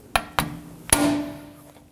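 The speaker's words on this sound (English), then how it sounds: "With an impact driver and a Phillips head, this is actually a number 3 Phillips head, we're going to go ahead and remove the hold bolt." A manual impact driver with a number 3 Phillips bit is hammered to free the brake rotor hold bolt on a 2014-2020 Acura MDX: three sharp metallic strikes, close and loud, the last ringing briefly.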